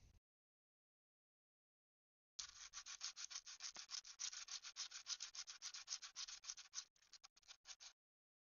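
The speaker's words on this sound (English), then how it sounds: "Sandpaper." Sandpaper rubbed by hand over a part during cosplay prop prep, a steady run of close, rhythmic scratchy strokes that starts after a silent gap and then stops.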